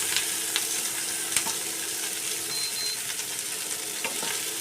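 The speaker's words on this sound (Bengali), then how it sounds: "এটা একটু তেলের মধ্যে নেড়ে নেব।" Chopped onion and ginger paste fry in oil over low to medium heat, a constant gentle sizzle with occasional light utensil taps and scrapes from stirring, nearby and unaccompanied by speech.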